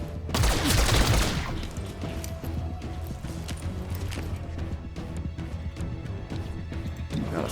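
A burst of rapid gunfire opens the scene in XCOM: Chimera Squad, followed by steady rumbling combat ambience with faint clattering shots in the background.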